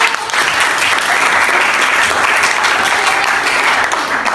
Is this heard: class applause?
yes